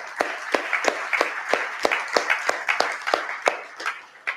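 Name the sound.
audience applauding the organisers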